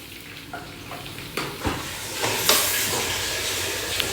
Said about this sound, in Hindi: तो ये हमारे फ्राइज बन रहे हैं